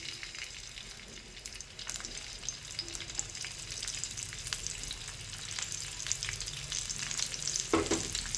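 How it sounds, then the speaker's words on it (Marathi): Onion sautéing in oil gives a continuous, fairly soft crackling sizzle, broken up by spatula scrapes and stirring taps, with a sharper clatter near the end and no talk. "कांदा 2 मिनिटं परतून घेऊ"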